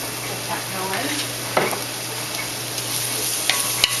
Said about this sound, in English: Just gonna drop in the onion.